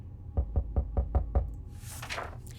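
Firm knocks on a door in the video game 60 Seconds! Reatomized, six evenly spaced raps in quick succession, close and distinct, followed by a soft hissy rustle.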